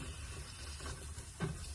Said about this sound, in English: if you can hear it, it's already sizzling